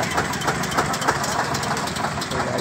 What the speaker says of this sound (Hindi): इधर ट्रैक्टर भी चल रहा है